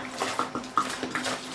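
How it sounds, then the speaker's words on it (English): Water is poured into dry potting mix in a tray while seeds are started, giving soft splashing and gurgling in a few irregular bursts, close by. "So I'm going to fill with water."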